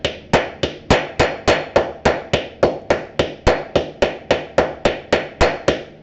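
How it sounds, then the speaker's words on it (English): A steady series of about twenty sharp metallic ball-peen hammer strikes on a rivet post, mushrooming it, evenly spaced and close, each ringing briefly before the next blow. "So I've got my ball peen hammer and I'm just gonna"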